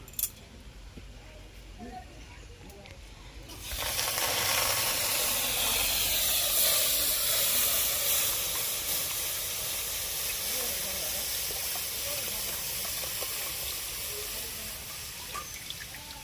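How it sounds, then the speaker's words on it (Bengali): Two litres of milk heating in a wok-style pan over a lit stove, building toward a gentle boil for chhena; a steady broad hiss and faint bubbling rise abruptly a few seconds in and hold close and even, with no talk. "দুধটা আমার ফুটতিছে হালকা হালকা"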